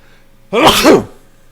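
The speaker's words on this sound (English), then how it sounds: "I think I just sneezed into my drink" A single sharp human sneeze bursts out close and loud, then fades quickly into a quiet room.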